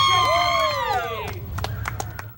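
A crowd at a race track cheers and whoops for the 2017 track champion, a rising chorus of shouts fading into scattered claps, fairly close and moderately loud.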